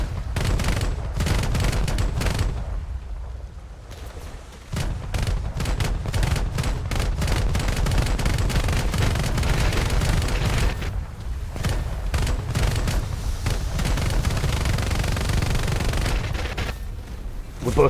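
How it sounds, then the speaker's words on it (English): Scharnhorst battleship cannons fire in a naval video game, a rapid stream of booming shots and crackling gunfire repeating almost continuously, loud and near, with a few short pauses. "Trying to control our gunfire a bit so we don't overheat our cannons."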